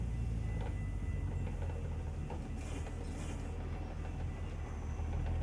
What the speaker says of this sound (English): Oh, we got a train.